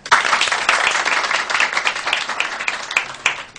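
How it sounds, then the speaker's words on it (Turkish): A small group applauds a police-commissioned poster honoring a fallen officer, dense steady clapping close by with a few sharper individual claps standing out. "Alkış yakışır."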